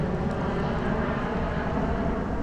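An airplane flying over near Heathrow airport, beside Eton on a hot day, gives a steady, broad engine roar that fills the whole stretch without a break, moderately loud and unchanging.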